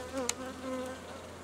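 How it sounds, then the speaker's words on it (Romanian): A single honeybee buzzes close by during an Ecostop hive treatment, a steady, faint, wavering hum with a brief sharp click near the start. "A intrat o albinuță în fundă."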